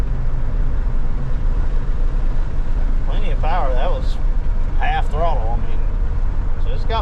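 A 1985 Ford F150 pickup engine pulls at half throttle, a steady loud low rumble running the whole time, with someone talking over it partway through.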